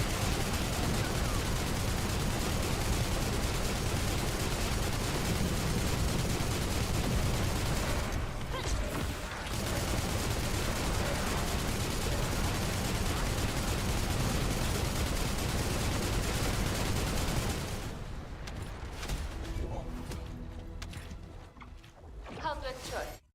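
Sustained rapid gunfire from a weapon in the online looter-shooter The First Descendant, loud and dense for most of the stretch, easing off near the end as the game's sound thins out.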